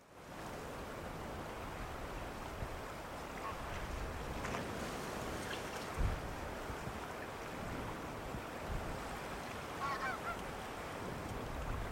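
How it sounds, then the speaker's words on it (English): A huge mixed flock of roosting knot, dunlin and redshank shorebirds on the mudflats of the Wash at Snettisham, heard as a dense, distant wash of calls and chatter blended with steady wind and surf. "like this massive mixed flock of knot, dunlin and redshank"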